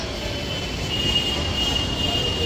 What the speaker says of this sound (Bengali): ওইটা হচ্ছে লোকাল ট্রেনের রাস্তা